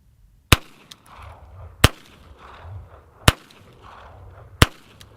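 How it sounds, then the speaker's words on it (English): Four sharp, loud gunshots from a French MLE 1892 8mm revolver, spaced about 1.3 seconds apart, each a crisp crack with quiet gaps and faint low rumble between shots. "Now, of course, you're limited to just those 6 rounds."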